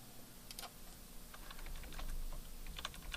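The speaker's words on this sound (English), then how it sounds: "I'm going to put my mouse before each of these words and hit the Tab key on my keyboard" Keys are struck repeatedly on a computer keyboard in quiet, quick clicks and taps, faint and close, with no talking.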